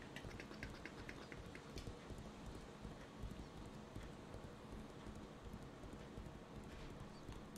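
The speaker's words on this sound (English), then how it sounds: "Like this horse sounds and everything." Horse hooves clip-clop steadily in the fantasy game Legends of Aria, a dense rhythmic patter of hoofbeats with a busy, rain-like background and no talking.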